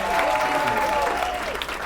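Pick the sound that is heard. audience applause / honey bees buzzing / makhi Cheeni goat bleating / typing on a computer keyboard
audience applause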